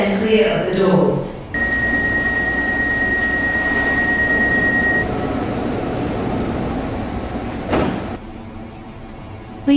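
Airport transit train pulling out of a station: steady rolling rumble with a sustained two-tone whine as it starts off, a brief door or coupling clunk near the end, and a recorded announcement voice over the start.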